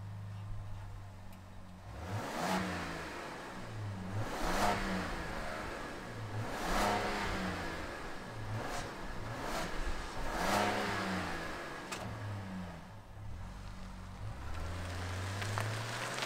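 A 2023 Jeep Grand Wagoneer L Obsidian Edition's engine idles, then revs repeatedly in several rising and falling surges, close and fairly loud, before settling back to a low idle.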